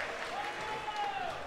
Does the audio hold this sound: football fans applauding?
yes